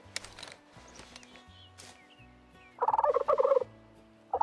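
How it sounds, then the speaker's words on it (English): Eastern wild turkey gobbling in the hunting game Way of the Hunter: a loud, rapid burst of throaty gobbles in the middle of the clip, with soft footsteps and rustling before it and a brief second gobble at the end. "These are turkeys."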